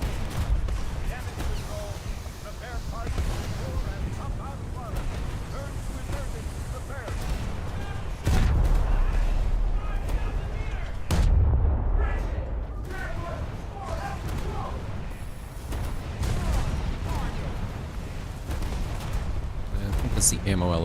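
Naval gunfire pounds a boat's ammo elevator in the game War Thunder, with heavy booming impacts over constant loud rumbling, including a couple of sharp, louder blasts midway, while someone talks over it.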